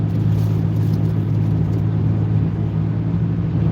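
A car cruising in traffic gives a steady, close, low engine drone and road rumble from inside the cabin, even and continuous, with no talking.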